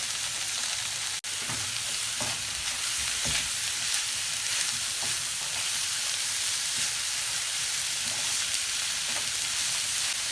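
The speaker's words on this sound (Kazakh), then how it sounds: "Осылай біз 3-4 минут қана қуырып алатын боламыз сәбізімізді" Carrots fry over high heat in a pan for funchoza with meat, giving a steady, dense sizzle throughout with occasional stirring scrapes and one brief dropout near the start.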